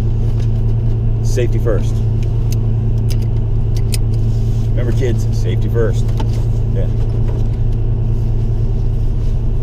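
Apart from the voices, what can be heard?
1988 Fox Mustang car engine running, backing out of garage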